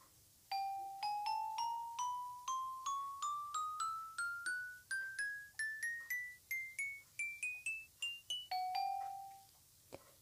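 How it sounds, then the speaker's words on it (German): A Minecraft note block set on a gold block plays bell tones, a bright series of about twenty clear chimes stepping steadily upward in pitch, then one lower closing ring, struck alone at moderate volume. "Dann haben wir die Glocke, die hat nur den Goldblock, ja, und so hört sie sich an."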